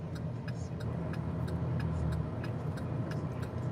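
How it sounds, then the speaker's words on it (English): Heavy road traffic with passing 18-wheeler trucks makes a dense, steady low rumble close by, swelling slightly in the middle, with light ticking clicks above and no speech. "Lots of 18-wheelers."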